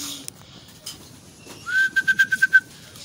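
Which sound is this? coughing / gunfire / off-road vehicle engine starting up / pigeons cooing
pigeons cooing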